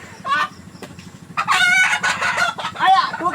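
Local village chickens clucking close by, with a rooster crowing in loud bursts over a steady low hum, in a rural farmyard.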